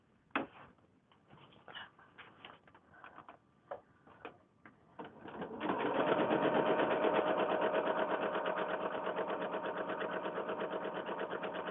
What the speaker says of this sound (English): Right, so over to the sewing machine.